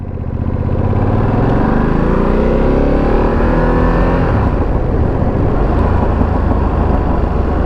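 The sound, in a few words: motorcycle being ridden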